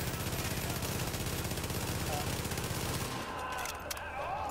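Sustained rapid enemy gunfire in a shooter video game, a dense continuous burst that cuts off abruptly about three seconds in, leaving quieter game sounds while a player speaks.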